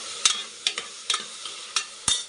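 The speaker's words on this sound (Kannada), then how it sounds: "ಈಗ ಟೊಮೊಟೊ ಹಾಕ್ತಾಯಿದ್ದೀನಿ" Chopped tomato frying with masala in a pan for egg biryani, with sharp scraping stir strokes roughly every half second over a faint steady sizzle, no voices.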